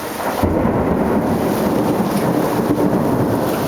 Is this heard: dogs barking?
no